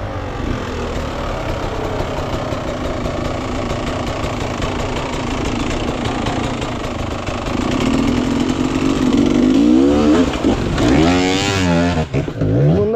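A motorcycle engine rumbles steadily up close, then revs louder and rises and falls in pitch toward the end, with no talking over it.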